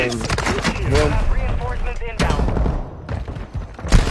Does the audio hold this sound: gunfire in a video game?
yes